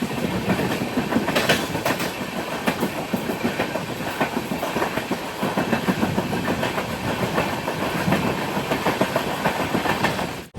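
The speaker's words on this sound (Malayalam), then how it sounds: "ഒമ്പത് 28 ട്രെയിൻ ഇത് രത്നഗിരി റെയിൽവേ സ്റ്റേഷനിലേക്ക് എത്തുകയാണ്" Konkan Kanya Express rolling into Ratnagiri railway station, a steady broadband rumble of wheels and carriages with rhythmic clickety-clack on the rails, loud and continuous throughout with no talk.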